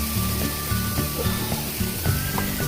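Finely diced tomatoes hit a pan of cooked onion, garlic and ginger, setting off a close, steady sizzle with faint stirring clicks and scrapes over a couple of seconds.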